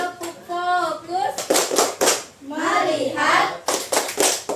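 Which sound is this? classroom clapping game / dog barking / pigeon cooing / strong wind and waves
classroom clapping game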